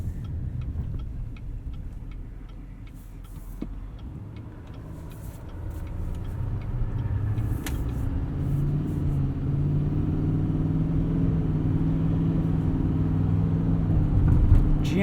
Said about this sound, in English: This Duramax is actually pretty quiet,